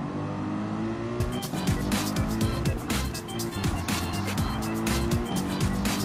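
Race cars roar and rev through a chaotic Gran Turismo 7 race, with engine notes shifting as cars overtake and repeated sharp clicks or impacts, loud and continuous.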